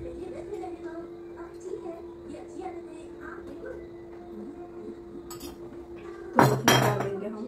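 A utensil scrapes and clinks against a cooking pot while ginger-flavoured food is stirred. Faint scraping under a steady hum builds to a louder burst of metallic clatter near the end, and a few voices talk in the background.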